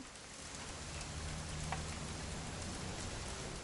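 Steady rain falls on a surface as a dense, continuous hiss with patter throughout, fairly loud and unbroken, with no voices.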